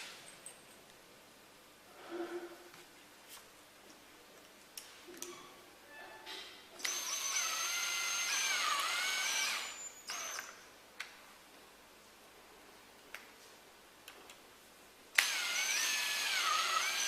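A power drill drives screws to fix window sash components in place, with several short bursts of whirring of a few seconds each separated by quieter handling noises.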